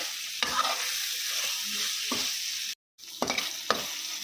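A radish leaf and tomato curry with coriander simmers and sizzles in a pan, with several sharp spoon scrapes as it is stirred and a brief silent gap midway.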